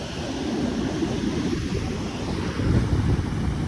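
Sea waves washing in at a beach with steady wind buffeting the microphone, a continuous broadband rush that swells louder near the end, with no talking.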